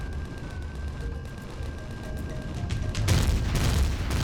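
Gunfire in the space survival game Empyrion Galactic Survival: a rumbling bed of booming shots and blasts that swells louder and denser toward the end, with no voices.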